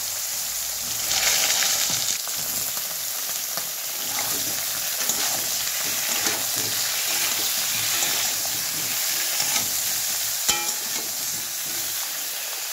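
Eggplant fries in hot oil with cumin seeds, producing a steady loud sizzle and crackle that continues throughout with faint stirring knocks and no talk.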